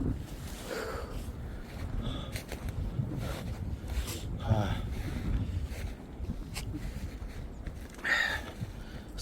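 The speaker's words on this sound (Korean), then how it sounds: "산에 바람 소리가 엄청납니다" Strong wind roars steadily on a winter mountain at about 1100 m elevation, around minus 16 degrees Celsius, a low rumbling rush with gusts buffeting the microphone and a few brief rustles.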